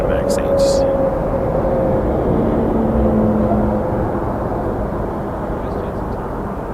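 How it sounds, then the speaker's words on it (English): A Boeing 737 Max 8 airliner at Toronto Pearson rumbles with a broad, steady engine roar that eases slightly toward the end, while someone talks over it. "737 Max 8."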